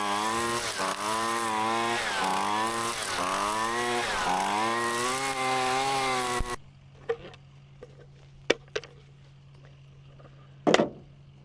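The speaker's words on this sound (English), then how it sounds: "I'm gonna get back to weed whacking" A string trimmer whines loudly and steadily outdoors during building cleanup, its pitch rising and falling as it works, then cuts off abruptly, leaving a quiet background with a few scattered knocks.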